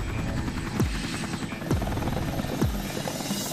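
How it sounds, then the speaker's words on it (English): Military helicopter flying, its rotor and engine roar running steadily throughout, with three sharp descending whooshes as blades or passes sweep by at regular intervals. "Helicopters can take the fight against a forest fire to the very heart of the inferno."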